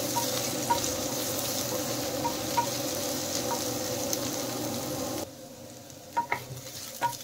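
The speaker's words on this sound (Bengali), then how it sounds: "দিয়ে দিলাম ক্যাপসিকাম, বিনস, গাজর, সব একসাথে দিয়ে হালকা ভেজে নেব" Capsicum, beans and carrots sizzle and crackle steadily in a hot pan, with occasional stirring scrapes; the sizzle drops quieter partway through, leaving sharper spatula knocks.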